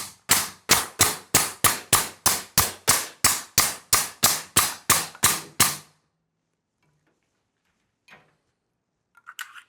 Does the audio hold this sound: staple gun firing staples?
yes